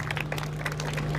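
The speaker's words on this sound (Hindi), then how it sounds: "जो मंच पर नियुक्त जो सरपंच है उनके लिए एक बार आप जोरदार तालियां बजा दीजिए कृपया करके" An outdoor crowd gives a brief burst of applause for a newly appointed sarpanch (village head) at a welcome ceremony in Nagura, Haryana, with steady clapping over a low electrical hum.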